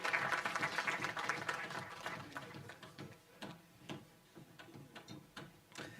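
Applause from a lecture audience at a university memorial lecture, dense at first and then thinning into scattered individual claps, heard from a moderate distance.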